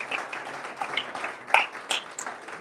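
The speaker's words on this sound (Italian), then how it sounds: "ci sta l'applauso." A small studio audience on a football-themed club show gives scattered, fairly quiet applause with a few sharper individual claps and faint murmuring underneath.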